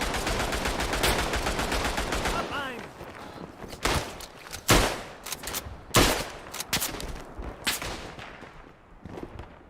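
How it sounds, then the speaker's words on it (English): Gunfire rings out in the video game Tannenberg, with a dense burst of shots followed by several sharp, loud cracks spaced a second or so apart, mixed with footstep-like rustles and someone talking over parts of it. "I know someone was shooting at me."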